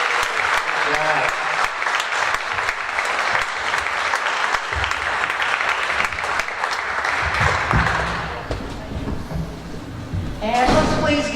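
Audience applause for the speakers at a Rotary Club oratorical finals event, steady and sustained clapping from a seated crowd with voices mixed in, thinning near the end before a brief louder burst.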